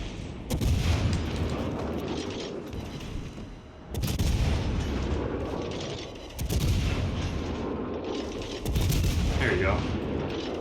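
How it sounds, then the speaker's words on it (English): Repeated bursts of video game gunfire from a Halloween event match, loud dense volleys arriving in several waves about every few seconds, with a player's voice faintly mixed in. "Why is he still shooting me?"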